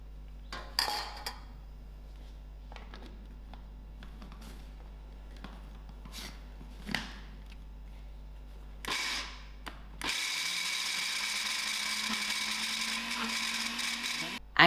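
A few light clanks and knocks, then a blender motor roars to life and runs steadily at high speed blending butternut squash with water, loud and close.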